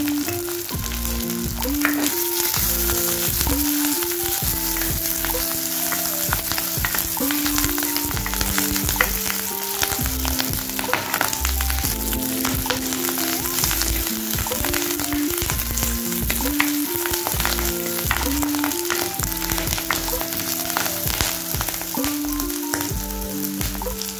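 Onions, dried chillies and curry leaves fry in hot oil for a mushroom gravy, giving a continuous close sizzle with frequent stirring and scraping.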